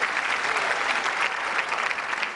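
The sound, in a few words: studio audience clapping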